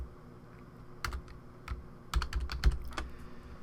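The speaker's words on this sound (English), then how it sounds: "And I'll type in logo." Text typed on a computer keyboard in Photoshop, with a few isolated key taps followed by a quicker burst of close, crisp clicks and no talking.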